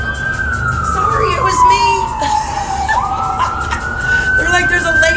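A woman on a balcony vocally imitates a siren, one long sustained wail that slides down and then climbs back up, loud and close, with a few spoken words mixed in.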